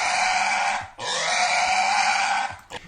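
A pig squeals loudly and harshly, one long sustained shriek, a brief break, then a second long squeal that trails into a short grunt, close and alone.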